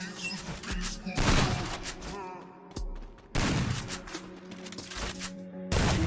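Gunfire in the mobile shooter Free Fire, with repeated loud bursts of rapid shots separated by brief lulls, close and dominant, while a voice talks faintly beneath the firing.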